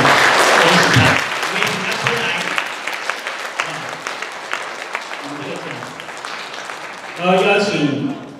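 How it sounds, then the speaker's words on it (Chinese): Audience applause at an honorary membership award ceremony, a steady patter of clapping from a gathered crowd that runs beneath someone speaking at the start and end, moderately loud and fading slightly in the middle. "我们拍手，我们恭喜她。"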